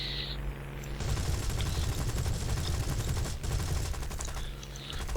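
Aircraft cannon fire from a British plane in War Thunder, a loud rapid stream of shots that begins after a short engine hum and runs for several seconds before easing off.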